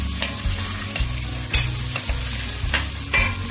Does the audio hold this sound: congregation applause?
no